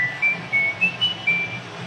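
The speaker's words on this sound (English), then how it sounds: "You really whistle well." A person whistles a short melodic tune in several brief bright phrases over a soft background hum, during a radio broadcast of an NFL football game between the Kansas City Chiefs and New York Giants.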